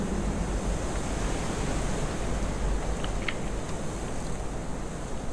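A river in the video game Kholat, heard as a steady, broadband rush of flowing water with a constant level and no talking.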